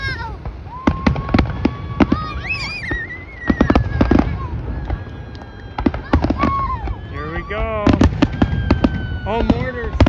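A barrage of firework mortars bursts outdoors in quick succession, sharp booms and crackles at a moderate distance, with people's voices and excited shouting mixed in throughout.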